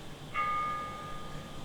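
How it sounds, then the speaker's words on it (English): A single bell strikes once in a stage production of Macbeth, a clear ringing tone that holds and slowly fades over about a second against quiet theatre room noise. "The bell invites me. Hear it not, Duncan, for it is a knell that summons thee to heaven or to hell."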